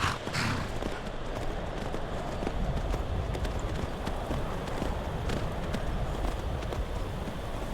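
Horse hooves pound in a fast, steady galloping rhythm over a dense, noisy background in the video game Skyrim, continuous and fairly loud.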